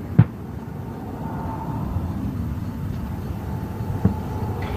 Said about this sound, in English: Discovery rolling out on runway 22 at Edwards Air Force Base, California